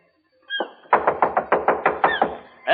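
Insistent knocking on a door, about ten hard raps in a steady rhythm, close and loud, with a short sound just before and another just after.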